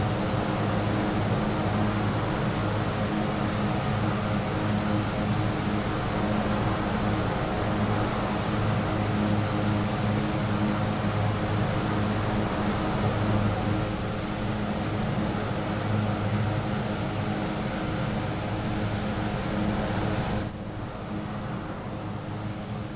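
Aerosoft Twin Otter propeller plane climbing in Microsoft Flight Simulator, a loud steady broadband engine and propeller drone with a faint high whine, continuous throughout and easing slightly near the end.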